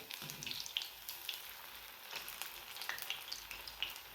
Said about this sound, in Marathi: मीडियम गॅसवरती आपल्याला तळून घ्यायचं आहे